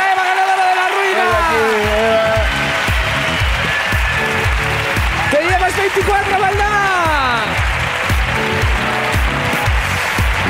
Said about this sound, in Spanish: ¡Aplauso para Eva, ganadora de la ruina!